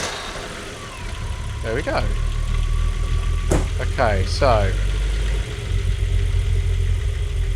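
A car engine idling just after start-up, running slightly higher than its normal idle, gives a steady low hum throughout while someone talks over it.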